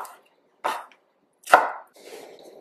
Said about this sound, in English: I'm going to start off by chopping my ginger